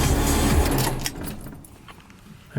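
A car drives along toward the giant statues at Ratchabakdi Park in Hua Hin, Thailand, its engine and road rumble heavy and steady at first, then easing to a quieter cabin hum, with a short knock near the end.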